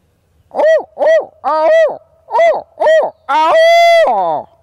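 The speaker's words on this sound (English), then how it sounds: "Whippoorwills sound pretty excited too" Whippoorwills calling in a warm June woodland: a series of loud, close, clear whistled phrases repeated in a steady rhythm, standing alone without talk.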